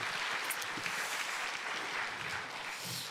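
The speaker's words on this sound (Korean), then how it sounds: "다시 한번 박수 한번 격려하겠습니다" A church congregation claps during a Sunday afternoon service, a soft, distant, continuous patter of many hands with no voices over it.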